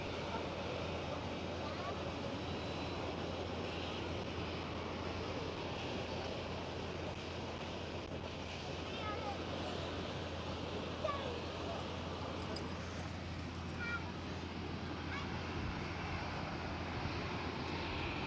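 A Boeing 747 airliner takes off from Schiphol toward runway 24, a steady broad jet engine roar heard from a distance at a spotting location, with people talking faintly underneath.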